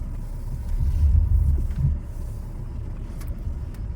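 A Range Rover rolls downhill on an off-road course, its engine a steady low rumble that swells briefly early on and then settles into a quieter drone, with no voices.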